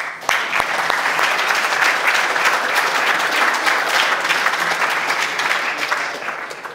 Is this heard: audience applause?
yes